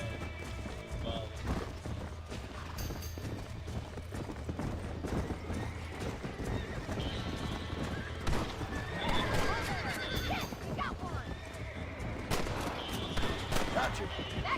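Horse hooves clip-clopping and galloping with whinnies in the Western game Red Dead Redemption, mixed with scattered gunfire and game voices, busy and dense throughout.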